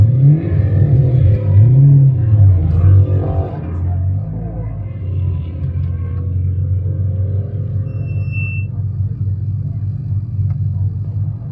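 A Mitsubishi Evo all-wheel-drive car on a race track, its engine a loud, steady low rumble with revving swells early on, then settling into a constant drone.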